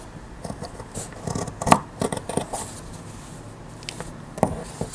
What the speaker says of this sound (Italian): Poi prendete le forbici e allora tagliamo questa parte